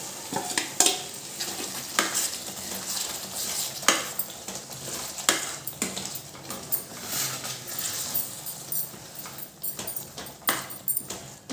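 Sambar being stirred in a pot, a spoon scraping and clinking against the metal in irregular strokes over a soft background sizzle, fairly close, with no talking.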